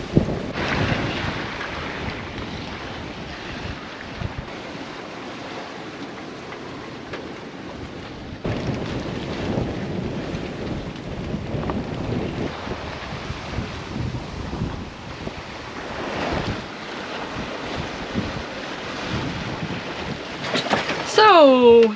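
Steady wind rushing and buffeting the microphone over waves washing around a sailboat sailed solo on the open sea between Panama and the Marquesas in about 12 knots of wind, a continuous windy roar with a brief creak near the end.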